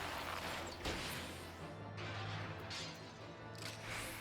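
A striking dummy in Final Fantasy XIV is struck several times, giving sharp, crashing impacts over busy in-game ambience.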